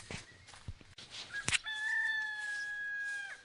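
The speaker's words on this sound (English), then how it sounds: "I apologize for any loud chickens or sheep sounds. I live on a farm." Rooster on a farm letting out a loud, drawn-out crow after a few faint clucks and a sharp knock, the call sustained for nearly two seconds and heard up close.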